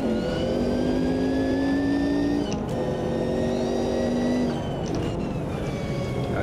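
Race car engine in the Automobilista 2 racing game revving up through the gears, loud and continuous, with rising tones that drop at each shift and then climb again.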